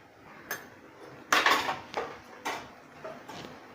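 A spoon stirs Kashmiri chilli powder, coriander powder and garam masala into green chickpea curry in a pan, with about six sharp, close scrapes and clinks spaced unevenly over quiet.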